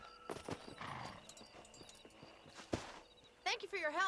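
Horse hooves clip-clop on the ground in the Red Dead Redemption video game, a black horse walking at a steady rhythm, mixed with game effects and a neigh near the end, while characters talk.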